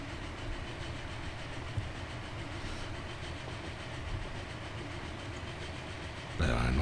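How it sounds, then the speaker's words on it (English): A train runs steadily in the railway simulation game Transport Fever, giving a continuous rumbling engine drone with faint rhythmic clatter, then a louder rush of noise near the end. "We're just watching the train here."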